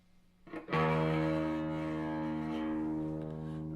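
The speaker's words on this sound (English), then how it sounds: "let's try out what is supposed to be a high pass filter in the center pot." An electric guitar chord through a homemade double boost pedal with its high-pass filter pot engaged: a single loud, bright, fuzzy strum that rings out and sustains slowly over a quiet hum.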